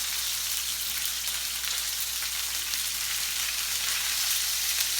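Fajita meat searing in a very hot pan, a loud, dense, even hiss of sizzling fat that holds steady and close for the whole stretch, with no talk.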